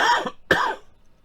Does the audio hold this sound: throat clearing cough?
yes